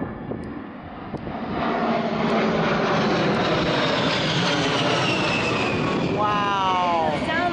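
Fixed-wing airplane on a training mission passing overhead at a Civil War prison camp site, a loud sustained engine roar with a pitch sweep as it goes by, with people talking faintly beneath it.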